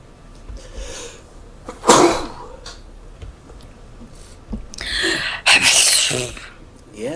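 A person sneezes in a video game scene set by railway tracks, with two bursts standing out over ambient game noise and a few faint voice sounds.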